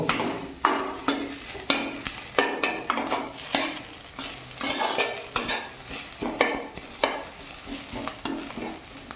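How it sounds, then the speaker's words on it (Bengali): Onions and dried red chillies sizzle and fry in a pan while being stirred for pasta masala, with steady hissing broken by repeated scraping stir strokes at a close, moderately loud level and no talk. "শুকনো লঙ্কা দিয়ে এবার একটু নেড়ে নেব।"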